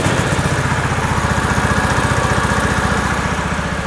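The engine of a 1970s PUG UTV runs close by, freshly started after sitting for decades, with a steady rapid low putter and a mild even pulsing.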